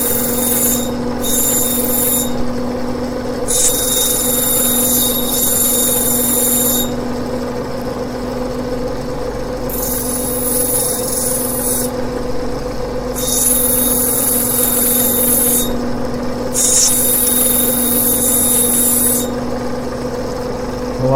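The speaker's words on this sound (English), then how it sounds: "now I'm going to grind away some of the angles of the bottom that I know we won't use" A rough Australian sapphire is ground on a lapidary wheel during preforming: a steady motor hum and whine runs throughout, with repeated bursts of high, hissing grinding as the stone is pressed against the wheel, and no voices.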